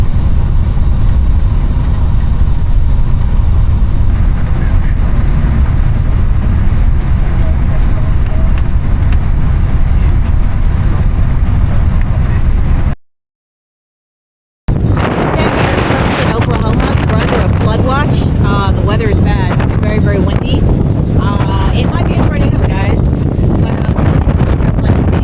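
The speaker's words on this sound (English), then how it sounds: "It is crazy windy out here." Strong wind buffets the microphone outdoors in Oklahoma at a Greyhound bus stop, a loud rumbling roar that fills the clip with only a brief silent break, and a voice speaks over it.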